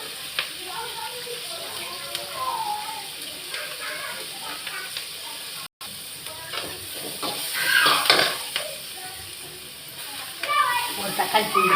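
Salt and curry leaves sautéing in a pan, a soft sizzle under stirring scrapes and clinks, with a louder hiss burst midway and a person talking over it.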